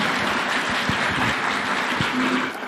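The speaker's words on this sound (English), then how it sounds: "One more round of applause, please." Sustained applause fills a formal State House ceremony in Kenya marking the launch of the fourth medium-term plan, a steady dense clatter of many hands heard fairly close and without interruption.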